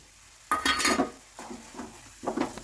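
A spoon scrapes and stirs a mixture of milk powder and grated khoa in a pan for a patishapta filling, with a few close clattering strokes and quieter scraping between them.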